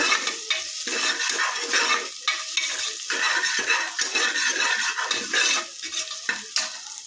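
Onion frying in a sambar tempering sizzles loudly up close as a utensil stirs and scrapes the pan in a repeated, uneven rhythm, with no one speaking.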